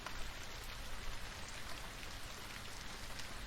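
Steady recorded rain patters evenly and softly, a dense wash of drops on a surface with no voices over it.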